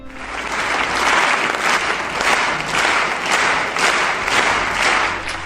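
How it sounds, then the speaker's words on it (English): An audience claps for a performance, a loud, dense roar of hands that settles into a shared rhythm with regular pulses roughly every half second. "In this video, the audience is clapping for a performance."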